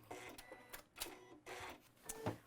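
Sewing machine stitching through bulky denim-like fabric layers, a quiet run of rapid mechanical clatter in short bursts with brief pauses between, heard close and without talk.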